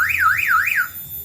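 An anti-theft alarm on a backyard sheep barn wails in a rising-and-falling siren pattern, three sweeps close and fairly loud, then stops abruptly as it is switched off by voice command.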